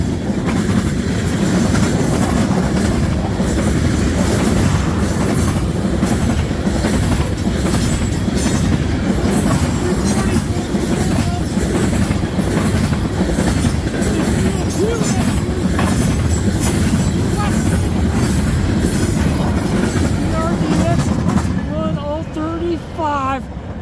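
CN freight train cars roll steadily past at close range in Ladysmith, Wisconsin, a loud continuous rumble with rhythmic clickety-clack and occasional wheel squeal, easing off near the end.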